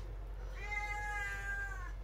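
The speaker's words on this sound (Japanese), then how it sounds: "うん、にゃー言わんでいいけん、" A cat gives a single drawn-out meow, close and clear, over a quiet room, while a person is feeding it and a visiting cat.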